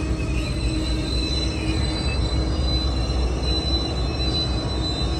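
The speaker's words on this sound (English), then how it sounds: "This train will be stopping right in front of me at a train signal right now." Amtrak Coast Starlight train #14, a triple-header, slowing to stop at a signal by the Oakland Coliseum, with loud continuous wheel squeal and heavy rolling rumble close by, steady throughout.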